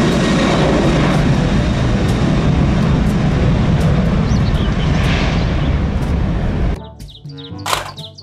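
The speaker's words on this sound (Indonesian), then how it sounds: "Pesawat terbang." Loud roar of an airplane flying close overhead, a dense rumbling engine noise that cuts off abruptly near the end, leaving a few faint chirps.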